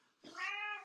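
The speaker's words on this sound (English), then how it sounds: "that's my cat" A domestic cat gives a single close, clear meow lasting under a second, rising to a sustained tonal cry with no talk over it.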